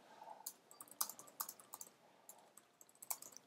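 Quiet keyboard typing, a steady patter of light key clicks at an uneven rhythm, close and isolated with no talking.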